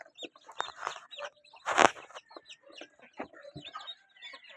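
Newly hatched chicks cluck and chirp nearby in short, irregular bursts, with a brief flurry of flapping wings in the middle.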